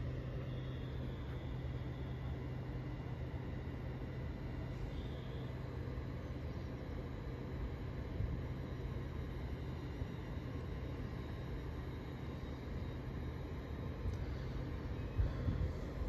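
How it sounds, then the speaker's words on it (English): A London North Eastern Railway train, unit 801218, rumbles steadily arriving at Platform 1, Grantham, a low continuous drone with a faint humming tone and no clear voices. "Now arriving on platform number one of Grantham"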